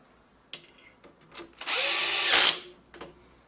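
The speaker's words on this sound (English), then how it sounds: "I'm just going to put in the screws for the power supply." A power screwdriver drives screws into the power supply board of a Technika LCD32-270 LCD TV: small clicks and taps, then one close, loud whirring burst of just under a second that rises briefly before stopping.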